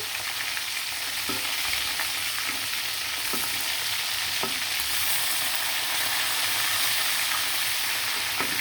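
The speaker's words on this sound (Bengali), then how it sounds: "মাংসগুলো কিন্তু লাল লাল করে ভাজা হয়ে গেছে" Chicken pieces fry in hot oil in a pan, a loud steady sizzle with occasional light scrapes as the pieces are turned, no voices.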